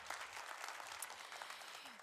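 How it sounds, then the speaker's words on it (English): A crowd applauds a host church at a school safety gathering, a faint, continuous wash of clapping heard from a distance for a couple of seconds. "want to give a big round of applause for them for hosting us"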